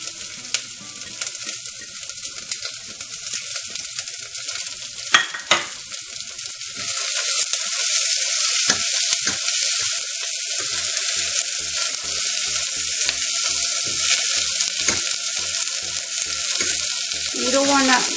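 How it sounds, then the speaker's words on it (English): Chopped onions, grated ginger and curry leaves sauté in a pan for oat upma. A quieter start gives way to a loud, continuous sizzle that holds steady to the end. "now we are going to add chopped onions and grated ginger and just curry leaves"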